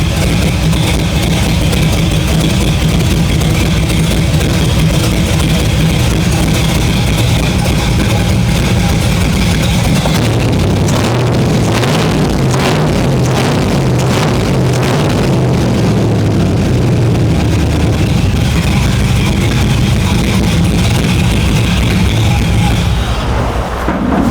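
An LS-swapped car engine runs loud and close for a long stretch, idling roughly and then revving in uneven bursts, with a rough, uneven exhaust note and no talk.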